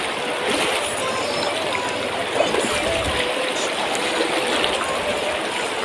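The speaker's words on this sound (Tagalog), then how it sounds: "Uy, yung lakas ng agos niyan!" Strong river current at Daraitan in Tanay, a dense continuous rushing and gurgling wash of water, close and steady throughout.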